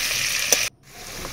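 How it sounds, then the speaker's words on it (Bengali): Potato pieces fry in hot oil with only salt for a home-style chicken curry, a bright steady sizzle that cuts off abruptly, then a quieter hiss returns, close and fairly loud. "আমি শুধু লবণ দিয়ে আলুটা ভেজে নিচ্ছি খুব"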